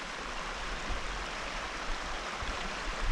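A cold mountain river rushes through a gorge in Kyrgyzstan, a dense, steady wash of flowing water close by with no voices over it.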